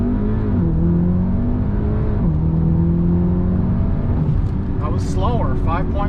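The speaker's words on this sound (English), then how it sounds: "Full stop. Full brake. Launch control. Launching." NEUSPEED-equipped Golf R launching hard from a standstill on a dirt road with launch control, engine note climbing steadily through rising gear pitches, loud and close with a voice talking over it near the end.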